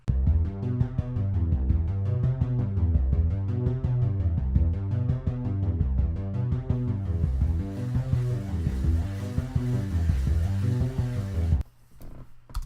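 A droning synth pad with a repeating low pattern gradually grows fuller and brighter, swelling in volume before cutting off abruptly near the end.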